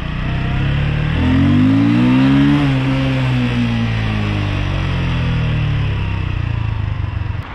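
An RKS RN 180 motorcycle engine runs steadily nearby, revving up with a rising pitch around the second mark before settling back into a constant idle-like drone.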